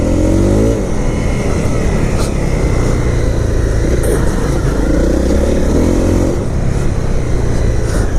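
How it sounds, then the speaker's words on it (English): A 2018 Honda CRF250L's engine roars loudly and steadily as the rear wheel spins on slippery ground, a close, continuous revving drone. "It's just wheel spinning."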